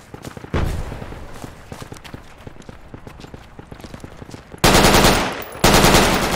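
Machine gun fire in the military shooter game Project Reality: rattling bursts under quieter distant gunfire, then two loud, close sustained bursts near the end.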